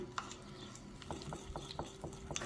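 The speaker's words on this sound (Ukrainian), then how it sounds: "І розмішую" A spoon scrapes quietly and rhythmically around a bowl, stirring a thick cocoa and oil mixture with soft, regular strokes close by.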